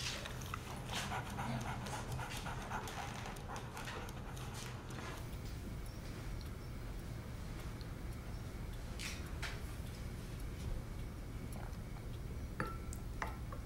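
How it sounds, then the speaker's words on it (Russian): A dog pants steadily and close by throughout, a continuous rhythmic breathy huffing with no talking. "Собака."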